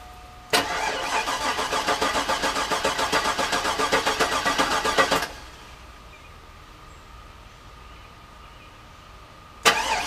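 A rebuilt LS V8 engine cranks on the starter in a fast, even rhythm for about five seconds to prime the oil pump, then goes quiet before another cranking burst begins at the end.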